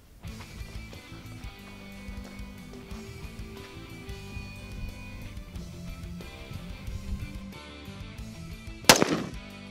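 A single sharp rifle shot aimed at plastic jugs about 50 meters away outdoors, one loud crack near the end after a stretch of low rumbling background noise.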